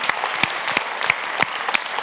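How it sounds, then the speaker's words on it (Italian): Audience applause at a live concert by an Italian band, a steady dense clapping wash from a large crowd with scattered sharper claps standing out, no voices over it. "dove chiediamo l'applauso più grande per ricordare i fondatori della band"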